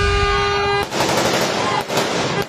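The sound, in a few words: rapid gunfire from an ambush shooting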